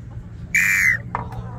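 A single sharp referee-style whistle blast, about half a second long, signals the start of a ball-drop game at a children's competition in Sorocaba, Brazil, sounding loud and close over faint background murmur.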